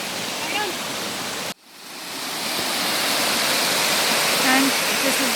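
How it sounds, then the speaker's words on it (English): A forest waterfall roars as a steady, loud, broadband rush of falling water, briefly cut off and then returning at full strength, with faint voices barely present beneath it. "And this is the waterfall."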